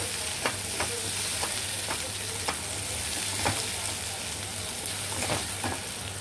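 Kokum hits a hot pan of sukat: a steady close sizzle of frying with scattered sharp clicks from stirring, no voices.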